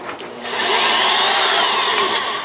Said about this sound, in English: let me show you what I'm going to do with this hole saw